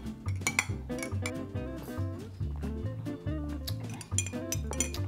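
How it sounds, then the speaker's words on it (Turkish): A spoon stirs a small glass of homemade ayran mixed with pickle juice, giving repeated light metallic clinks against the glass over steady background music. "biraz daha karıştırıyorum"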